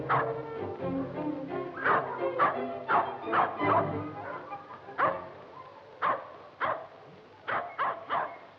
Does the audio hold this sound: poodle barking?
yes